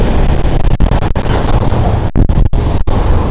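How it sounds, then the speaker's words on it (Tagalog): Steady roadway traffic on a Saturday along the Atimonan to Gumaca route, a continuous loud rumble of cars, buses and trucks with sharp passing bursts and a hiss like an air brake. "traffic ng traffic"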